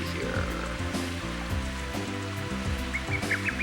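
Rain patters steadily on the Koopa Park course in the video game Mario Golf, a continuous soft hiss beneath the game's looping background music.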